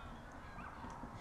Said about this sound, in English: the call of geese escaping the raging ocean on their vast flying V